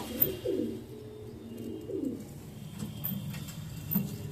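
Young domestic pigeons of Andhra, Chennai and Black Diamond breeds coo in low, rolling calls, two clear coos standing out against a soft, continuous background murmur of birds nearby.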